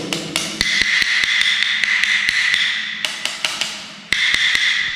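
A hollow-tile testing tool is tapped and dragged over a hollow floor tile in a new house, making a bright, sustained rattling ring broken by repeated sharp taps, loud and close, with brief pauses between passes.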